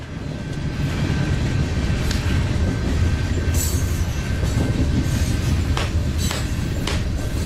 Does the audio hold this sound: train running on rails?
yes